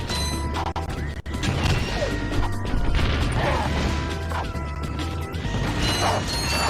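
Boxes smash open in the Ratchet & Clank video game, loud crashes and mechanical clatter as bolts scatter, layered over a constant busy game soundtrack.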